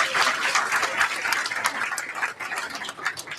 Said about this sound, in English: let's give a round of applause for all of the faculty and staff